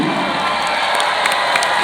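Concert crowd at a rock show cheering and shouting, a loud continuous roar of many voices with a few higher whoops, distant and sustained.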